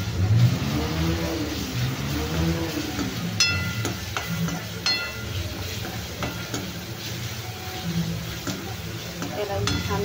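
Ginger-garlic paste sizzles steadily while frying in a pan in a home kitchen, with a continuous crackling hiss and occasional clinks of stirring. A voice talks over it at times.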